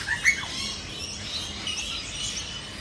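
Young butcher bird giving a sharp chirp near the start, followed by softer high calls against a quiet outdoor background.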